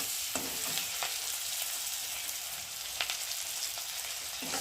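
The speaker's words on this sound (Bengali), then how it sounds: "পেঁয়াজটা একটু ভালো করে ভাজা ভাজা হবে" Onion and green chilli sizzle steadily in oil, up close, with a few sharp stirring scrapes scattered through the soft, continuous frying hiss.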